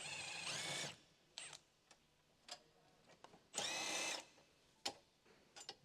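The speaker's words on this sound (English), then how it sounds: "Use a 10 mm short socket with an electric impact wrench to remove the mounting bolts securing the bracket to the front axle" An electric impact wrench with a 10 mm short socket fires in short bursts, removing the mounting bolts that hold a bracket to the front axle of a 2015 Ford Escape. Two longer rattling runs with brief taps and clicks between them.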